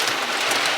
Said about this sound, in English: Because it's raining too hard.